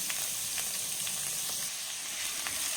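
Chopped onions frying in groundnut oil with chillies and curry leaves for egg curry, a soft steady sizzle with light stirring ticks, fairly quiet and close.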